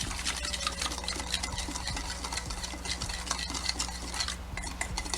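A spoon stirs soy sauce and sugar in a bowl to make a dipping sauce, a steady soft scraping and clinking over a constant low hum, with no talking.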